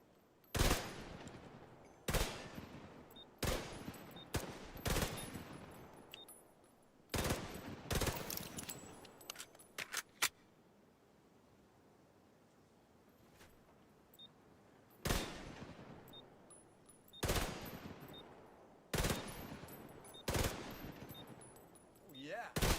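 Weapon practice gunfire in The Division 2: close, sharp shots in rapid bursts and single cracks, separated by quiet gaps and with a pause in the middle before another volley.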